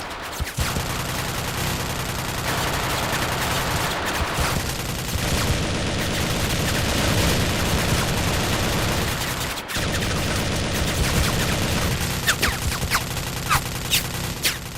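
Sustained gunfire as soldiers exchange fire during the Marawi Siege, with dense overlapping bursts of automatic and rifle shots continuing loudly throughout, briefly dropping near the ten-second mark before resuming.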